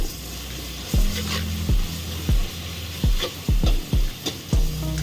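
Onions frying in a pan for chicken biryani, a steady sizzle with repeated scraping stirs of a spoon against the pan, about eight strokes in a loose rhythm, close and fairly loud with no talking.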